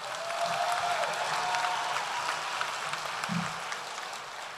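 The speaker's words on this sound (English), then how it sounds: "A round of applause for Gabriel." An audience at a university graduation ceremony claps steadily for several seconds, a dense wash of applause that holds level and then begins to taper.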